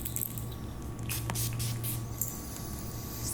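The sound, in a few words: spray bottle spritzing to clear the space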